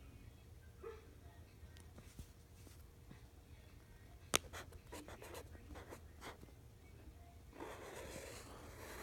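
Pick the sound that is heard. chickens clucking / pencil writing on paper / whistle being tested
pencil writing on paper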